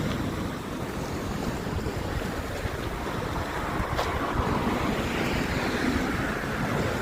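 Ocean waves wash steadily along the Horseshoe Bay waterfront on a calm Boxing Day morning, a continuous broad rush of surf mixed with wind buffeting the microphone, with no voices.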